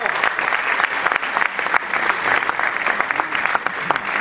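Dense audience applause fills a Buenos Aires conversation event with Amado Boudou and Ernesto Laclau, a steady wash of many hands clapping at close range that continues evenly throughout.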